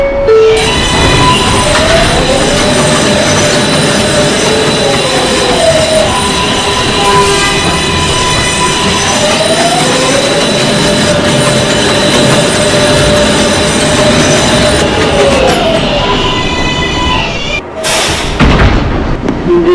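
An R142A New York City subway 6 train rolls along loudly from inside the car, with a steady rumble, rising and falling motor whine, squealing wheels and a sharp clatter near the end.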